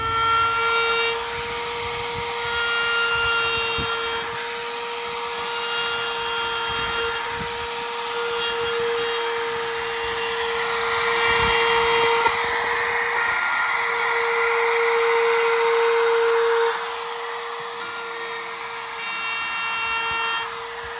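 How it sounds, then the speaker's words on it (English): A router trims a cut opening in a plastic bag for a 2023 Harley-Davidson CVO Road Glide, giving a steady high-pitched whine that stays loud and continuous with slight changes in load. "Then he's gonna come back and clean these lines up from the outside with the router."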